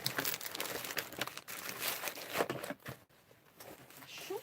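Cellophane sheets rustle and crinkle as they are handled for charity card making, a quiet, uneven stream of crackles and crumples with brief pauses.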